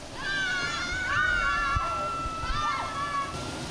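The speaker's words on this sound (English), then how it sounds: "The water actually comes from up on this cliff and comes down all the way into these little pools right here." Hot spring water flows down a cliff into small rock pools at Li Song Hot Springs in Taitung, Taiwan, a steady rushing wash under high voices and chatter.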